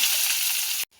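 Onion sizzles loudly and steadily in hot oil with panch phoron, a dense close-up frying hiss that cuts off abruptly near the end.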